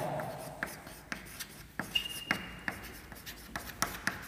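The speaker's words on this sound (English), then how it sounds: "write the important points which I am going to write on the board" Marker or chalk strokes on a classroom board, with sparse scattered taps and short scrapes at an uneven pace, fairly faint against a quiet room.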